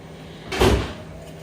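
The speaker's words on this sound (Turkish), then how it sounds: "Ben kapıyı kapatayım da." Door being pulled shut at home, a single soft muffled thud with a short swish, heard alone against a quiet room hum.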